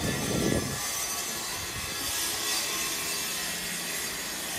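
Rough scraping strokes of sawing or planing wood during building repairs at a resort, brief and moderately loud at first, then a steady hiss of distant activity.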